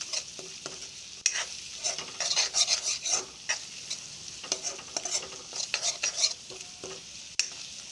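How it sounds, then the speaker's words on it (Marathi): Masala of coriander powder being stirred and mixed in a pan, with a steady scraping and faint sizzle, a few sharper clinks of the spoon against the metal, and no voices. "हे सर्व मिक्स करून घ्यायचं मिश्रण चांगलं मिक्स व्हायला पाहिजे"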